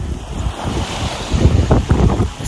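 Heavy wind roars across the microphone aboard a sailing yacht racing the Fastnet Race in rough seas, with waves rushing and slapping against the hull in loud surges and no talk.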